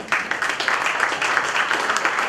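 Audience applause at an MSME conclave in 2023, a dense, steady wash of many hands clapping that holds fairly loud and even for the full two seconds, with no voices on top.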